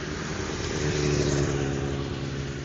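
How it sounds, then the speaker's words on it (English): A passing motorcycle engine drones steadily at moderate distance on a road in Japan, a constant low rumble without obvious rise or fall. "It's just a motorcycle."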